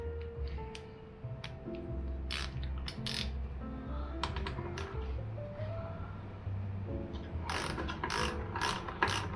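A ratchet wrench clicks in quick repeated bursts while working turn signal nuts on a Royal Enfield Continental GT 650 motorcycle, close and crisp, with short pauses between runs and a faster burst at the end.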